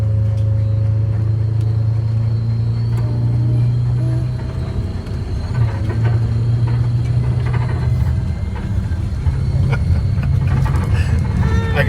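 A Detroit Diesel 8V71 engine with an overheated history, a broken valve and melted piston rings pulls a vehicle at full throttle, holding a loud, steady low drone that dips briefly and then climbs again as it upshifts.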